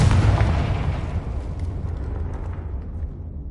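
A Confringo blasting spell goes off in the Hogwarts Legacy video game: one heavy, close explosion with a booming burst that rumbles and fades away over a few seconds.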